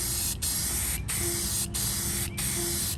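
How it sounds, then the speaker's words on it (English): An aerosol spray can lays a paint coat on a part from a 1950s Fairbanks Ward drill press, giving four short hissing bursts separated by brief pauses, close and fairly loud. "this is how out of a spray can you're going to get the gloss"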